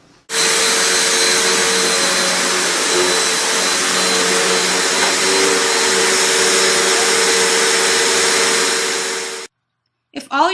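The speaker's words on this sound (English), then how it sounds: "dogs have issues with the vacuum" A vacuum cleaner roars steadily at close range for about nine seconds with a constant whine during dog training, then cuts off abruptly, followed by a brief faint sound.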